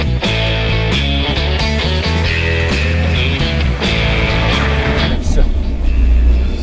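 A Lada Vesta engine revs hard in a wheelspin attempt, loud and sustained with rising and falling pitch as traction control cuts in, with speech over the roaring motor.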